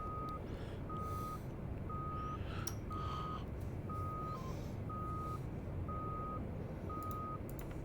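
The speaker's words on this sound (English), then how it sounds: "Why do I have a steady beep now?" Regular electronic warning beeps in the DCS Viggen flight simulator repeat about twice a second over a constant engine-like drone, with a few brief clicks mixed in.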